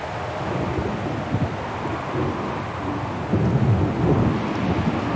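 Thunderstorm in the video game Syberia: The World Before, a steady wash of rain and wind with low rumbling thunder that swells louder near the end, no voices.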